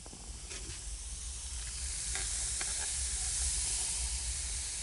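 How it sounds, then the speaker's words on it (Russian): Fried potatoes with onions sizzle steadily in a pan on a wood-stove in a forest cabin, a continuous bright hiss with occasional small crackles and pops and no talk. "как шкварчит жареная картошка с лучком"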